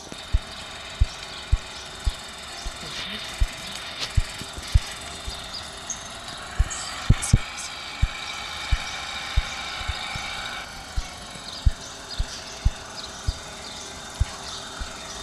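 Farm tractor engine in the video game Farming Simulator 14, a steady droning idle with regular rhythmic knocking pulses about once a second, continuous and moderately loud throughout with no talking.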